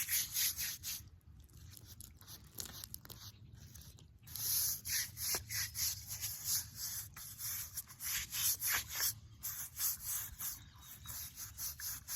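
Someone scrubs a headstone clean with a brush, rapid rough rubbing strokes in uneven bursts, close but fairly quiet, with no talk.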